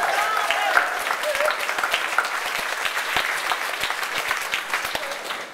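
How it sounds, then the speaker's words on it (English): Warm, full applause from a large audience at a literary awards ceremony, a steady wash of many hands clapping throughout with a faint murmur of voices underneath. "I'd really appreciate if you give each of those people a round of applause."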